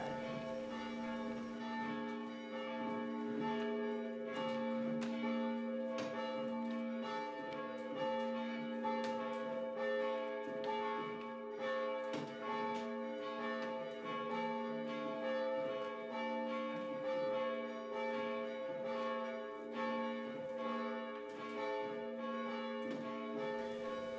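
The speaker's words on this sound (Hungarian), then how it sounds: "a nagy harangot meg a kis harangot összefogom, és akkor az elindul, utána a lábammal pedálozom" Large and small church bells in a Nógrád village tower, rung by hand-pulled ropes and a foot pedal, peal continuously in a dense, overlapping tolling rhythm that stays loud and steady, with no voices.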